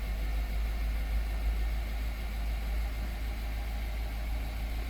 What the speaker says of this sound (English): Start this guy up. Get it idle nicely.